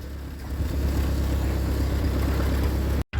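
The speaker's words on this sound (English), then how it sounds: "Now I can move the tractor." Engine of an old Ford 8N tractor running steadily and fairly loud for about three seconds, with a rough low rumble, then a brief cut to silence.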